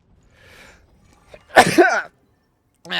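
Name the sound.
sneeze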